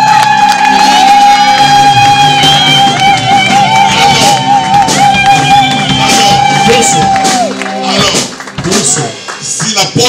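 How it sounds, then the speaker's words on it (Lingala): A church congregation at a wedding blessing shouts and cheers in acclaim, loud and crowded, over sustained music with a held tone; the cheering swells then breaks into scattered whoops near the end. "Est-ce que nous pouvons acclamer le Seigneur?"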